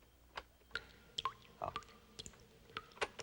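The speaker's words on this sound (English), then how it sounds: "That's a drip, like out of a tap or a faucet." Water dripping from a tap or faucet, recorded for a guessing game: scattered soft plinking drops at irregular intervals, quiet and close, with a brief voice exclamation.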